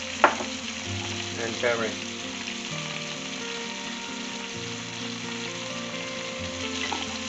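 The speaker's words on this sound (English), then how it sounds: "Let it fry, shallow fry." Spices with salt, cumin, turmeric and a clove of garlic shallow frying in a pan for maqlooba, a steady close sizzle throughout with a few brief stirring clatters and a short spoken phrase near the start.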